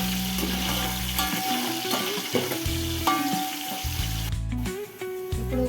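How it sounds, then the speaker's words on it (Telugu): Ingredients for biryani fry and sizzle in a pan until brown, with steady crackling and intermittent stirring or scraping clatter, close and fairly loud, no talk. "ఇప్పుడు ఇది కొంచెం బ్రౌన్ కలర్లో వచ్చేంత వరకు వేయించుకుందాం."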